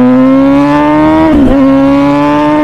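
Close and loud, an MV Agusta Brutale 1000 RR naked superbike holds a steady high-revving engine and exhaust howl under throttle, with a brief dip around a gear change before pulling on.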